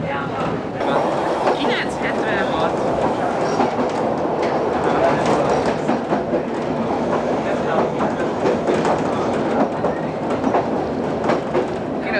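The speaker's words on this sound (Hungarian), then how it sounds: "Megy fenn egy vonat." HÉV suburban train on the Ráckeve line rolling past, a steady loud rumble with rhythmic clickety-clack of wheels throughout, with people talking over it.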